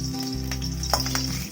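Three green chilies fry in hot sesame oil in a pan, giving a steady close crackling sizzle with a few sharper pops and a soft stir, with no talk.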